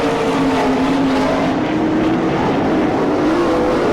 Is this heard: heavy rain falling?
no